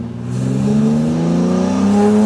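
A Jannarelly Design 1 sports car with a manual gearbox accelerating hard, its engine note rising steadily in pitch, loud and close throughout, heard from on board during a drive.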